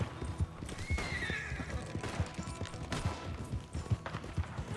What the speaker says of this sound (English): All the horses are just having a fit at all the shooting.